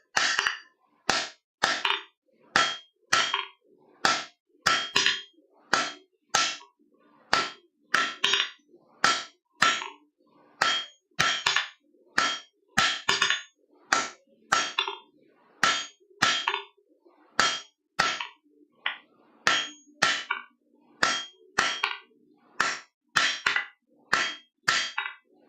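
A blacksmith hammers hot steel on an anvil to forge a taper, with around forty bright, ringing clangs in a steady, loud, close rhythm and only brief pauses.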